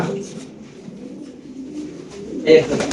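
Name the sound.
Lahori pigeons cooing at a pigeon farm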